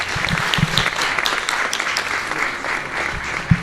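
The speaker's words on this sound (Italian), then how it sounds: "E un applauso va appunto ai pittori Ranno e Ribaudo." Audience applause for the painters Ranno and Ribaudo at an Italian poetry recital event, a steady, dense crowd clapping sustained throughout at moderate volume with a few louder claps near the end.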